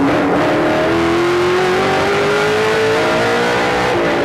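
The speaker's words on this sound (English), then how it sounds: "You hear Peter just feathering the throttle, keeping the car straight, not slipping the rear tires" A NASCAR Canadian Tire Series race car at the 2008 Pizza Pizza 300, heard on board as the driver feathers the throttle exiting a corner: a loud, steady engine drone with slowly rising pitch and slight wavering, no talk.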